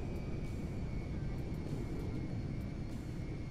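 An airplane in the game GTA 5, just after an emergency landing, gives a steady, unbroken engine drone at moderate level with no voices over it.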